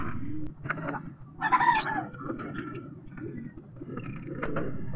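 A rooster kept as a fighting bird crows once in a short burst, fairly close, amid clucks and general farmyard noise.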